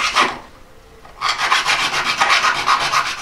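Hand file rasping on a metal coilover part in a garage: a short stroke, a brief pause, then a run of rhythmic back-and-forth filing strokes, loud and close, with no talking.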